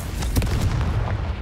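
Confringo spell explosions in the video game Hogwarts Legacy, a dense run of loud booming blasts and crackling bursts, with one sharper hit near the start over a sustained rumble.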